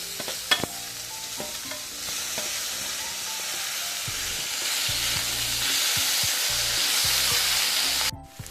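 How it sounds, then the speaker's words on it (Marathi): Tomatoes go into a frying ginger garlic chili paste with onions in a pan, setting off a steady close sizzle that gradually intensifies, broken by spoon clinks and stirring scrapes, with no talk. "आता टॅमॅटो टाकूया"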